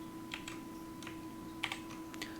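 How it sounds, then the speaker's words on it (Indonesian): Soft, scattered keystrokes on a computer keyboard, a few light clicks and short bursts, faint over a steady electrical hum, with no talking. "Kita tulis tanda seru, kemudian tab di keyboard."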